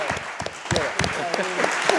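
Audience applause, a brief patter of clapping from a crowd mixed with voices speaking over it, moderately loud and steady.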